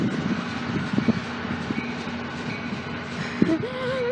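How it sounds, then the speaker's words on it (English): Two NJ Transit Atlantic City Line commuter trains rumble past each other with a steady low roar and a brief tonal whine near the end; no talking. "Two Atlantic City Line trains meeting!"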